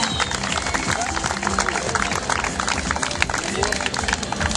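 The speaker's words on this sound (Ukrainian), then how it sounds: "А тепер, будь ласка, всі гучніші аплодисменти для цих всіх богатирів" Crowd applause for strongman competitors at a 2012 strongmen games awards ceremony in Kivertsi: dense, continuous clapping and crowd noise that holds steady and fairly loud throughout.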